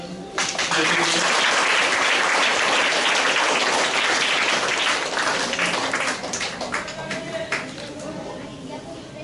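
Applause from children and an audience at a Dhanbad cricket association gathering for 8-to-12-year-olds, a loud sustained burst of clapping that gradually thins out, with voices mixed in.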